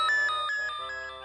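A telephone ringtone chirps in a rapid repeating electronic trill, several short bursts in a row at moderate volume, with no voices over it.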